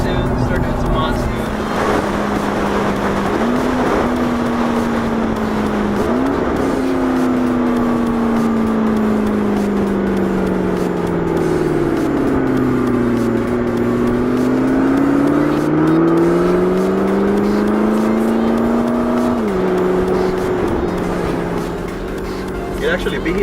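A McLaren MP4-12C with factory upgraded sport exhaust drones loudly and steadily, pitch rising and falling through long revs, with people talking over it.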